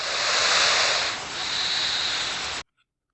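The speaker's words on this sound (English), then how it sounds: "It is an alligator hissing." An alligator's hiss, a long breathy rushing sound that swells, dips slightly, then continues steadily for about two and a half seconds before cutting off into silence.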